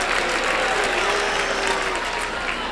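A large crowd at a professional Latin dance competition in Miami applauds and cheers loudly, dense continuous clapping with whoops rising over it, sustained throughout.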